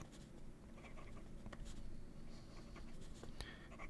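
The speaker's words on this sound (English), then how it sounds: "we'll test this Hongdian nib first" A Hongdian A24 fountain pen nib scratches across paper in quick, soft strokes, close and quiet, a continuous light scribbling texture.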